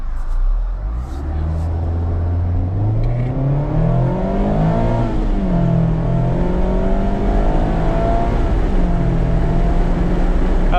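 A 2024 Mazda MX-5 RF (ND3) accelerating hard up a hill, its engine note rising steadily through the revs with a loud, close, continuous drone and a brief dip as it shifts before climbing again.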